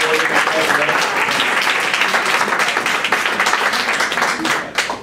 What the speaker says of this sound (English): Can we get a round of applause for Officer Albert